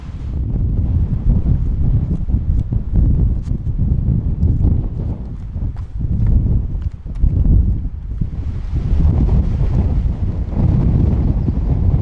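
Strong wind roars steadily around trees on a mountain peak on Anvil Island, buffeting the microphone in constant low gusts that rise and fall, with a hissier surge toward the end.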